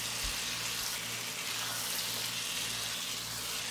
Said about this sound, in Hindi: आलू और मटर को मसाले के साथ अच्छी तरह से फ्राई करेंगे।